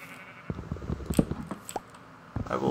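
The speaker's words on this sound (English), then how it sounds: "Ooh, yay, more sheep." Sheep in a video game bleat several times in short, separate calls at moderate loudness over quiet background ambience.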